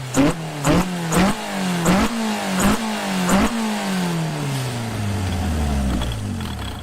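A motorcycle engine with an FCR carburetor revs in several sharp, loud bursts, then winds down in a long falling drone with a rattly, clattering edge, heard close and alone.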